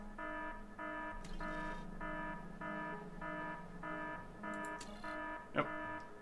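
A Factorio: Space Age alarm sounds a steady pulsing electronic buzz tone, about nine evenly spaced beeps over a low hum, quiet and alone, with a brief sharp click near the end.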